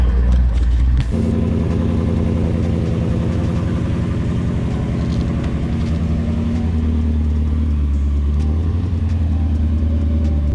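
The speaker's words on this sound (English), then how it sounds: "help Charlie dock the Road Runner into the trailer" A Plymouth Road Runner engine starts suddenly and then rumbles loud and close at low speed as the car creeps into a trailer, a steady idle-like throb with no talk.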